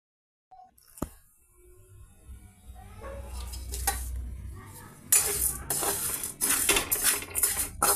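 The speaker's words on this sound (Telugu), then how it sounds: "లో ఫ్లేమ్ మీద ఈ విధంగా మనం అటుకుల్ని ఫ్రై చేస్తున్నామండి." Flattened rice (poha) is stirred in a pan over a low flame. Loud, uneven bursts of spatula scraping and metallic clatter rise over a faint background hiss, growing busier in the second half, with no voices.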